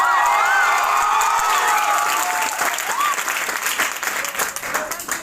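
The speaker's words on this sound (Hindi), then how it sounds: "जो आप तालियां मेरे लिए बजा रहे हो" An audience claps warmly for a police officer invited onto a stage at a public event, with loud sustained applause and a few cheers that gradually thin out.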